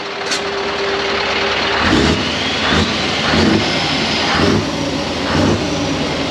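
Reprogrammed Scania V8 truck engine, a loud, close, rough idle roar punctuated by about five rhythmic revving bursts, with no talk over it.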